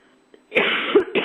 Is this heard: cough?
yes